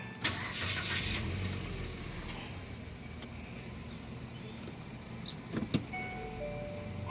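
A Mitsubishi Xpander car engine starts and settles into a low idle, faint and steady, with a few short clicks and knocks near the end and no talking.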